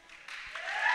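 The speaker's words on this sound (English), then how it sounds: "Well, that was a rapturous cheer, that." A crowd at a Varsity 2019 trampolining competition cheers and applauds after a routine. The sound is a broad, swelling roar that builds steadily louder over a second, heard from within the hall without speech on top.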